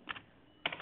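Keys on a computer keyboard tapped in two quick, quiet bursts separated by a short pause, with no voices present.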